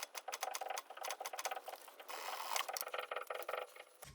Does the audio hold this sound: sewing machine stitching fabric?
yes